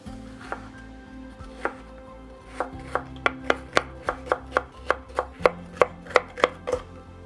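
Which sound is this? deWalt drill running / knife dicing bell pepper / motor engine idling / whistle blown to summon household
knife dicing bell pepper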